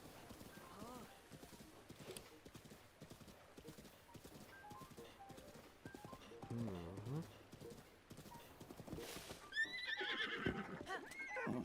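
Hooves clip-clop steadily as a horse in Zelda: Breath of the Wild gallops, ending in a loud neigh, with someone talking over much of it.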